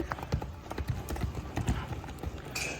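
A Marwari mare's hooves clip-clop on dirt in a quick, uneven rhythm, close and fairly quiet, with a brief faint voice near the end.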